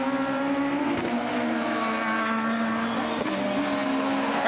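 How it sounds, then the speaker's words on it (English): Super 600 rallycross car at the Euro RX of Ireland, its engine loud and close as it drops gears, a buzzing rasp that rises and falls with faint tyre scrub and no talking. "I love a Super 600 on a downshift"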